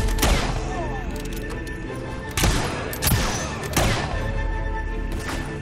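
Gunfire in Fable 3 during a fight with guards, several loud, close shots and crashes spaced a second or so apart over a busy battle din, with a voice speaking in between.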